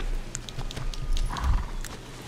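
A horse's hooves clip-clop at a steady walking pace across ground in the video game Shadow of the Colossus, with clear, close hoof strikes over faint ambient background.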